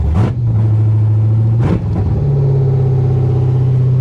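A Corvette engine idles loud and close, with two sharp throttle blips that rev it up and fall back, and the idle then settles slightly higher and steady.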